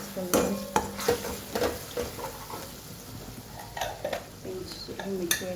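Kashmiri chili and red chili powder are stirred into a frying pan: a spoon scrapes and clinks against the metal in irregular strokes over a soft, low sizzle.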